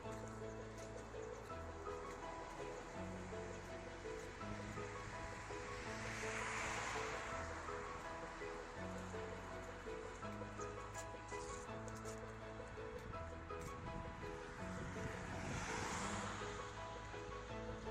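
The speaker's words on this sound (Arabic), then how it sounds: "شوفوا هذا البحر" Sea waves washing onto the shore, a steady distant surf with two broader swells building and receding, under low background rumble.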